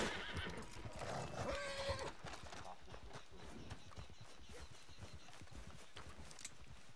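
A horse whinnies loudly in the video game Red Dead Redemption 2, then hooves clatter in a steady clip-clop, fairly quiet overall, with a voice heard faintly.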